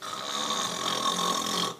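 A voice imitating a loud, drawn-out snore, one continuous rasping breath that cuts off abruptly at the end.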